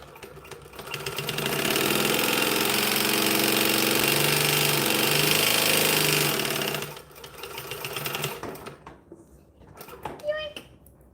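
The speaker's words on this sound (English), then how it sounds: "If anybody else gets as much joy of speed sewing as I do." A sewing machine runs fast in a sustained burst of speed sewing for about five seconds, loud and close, then winds down, followed by quieter handling noises.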